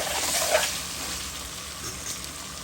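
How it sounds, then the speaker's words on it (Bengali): Potatoes and onion sizzle and crackle steadily in a pan as ginger and garlic go in, a brief stirring flare near the start before settling into an even, close frying hiss with no talking. "এখন আদা আর রসুন একসাথে দিয়ে দিলাম"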